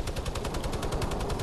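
Gunfire in the Fortnite video game: a rapid, even run of sharp shots that repeats steadily throughout the brief burst, fairly loud, with no talking.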